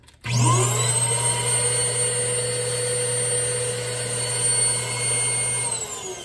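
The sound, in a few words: dust collector running, high-pitched whine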